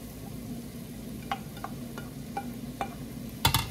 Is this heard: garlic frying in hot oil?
yes